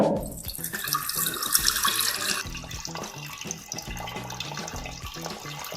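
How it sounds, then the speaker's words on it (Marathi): Water pours steadily from a tap into a pressure cooker fitted with a stand inside, a loud continuous rushing stream that softens slightly as the cooker fills, with no voices. "कुकर घ्या त्याच्यात असा स्टँड ठेवा व पाणी घालून घ्या"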